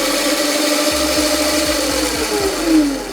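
Crazy Cart electric go-kart motor revving with the front lifted, a whining mid-pitched drone that rises and falls through several throttle pulses, loud and close.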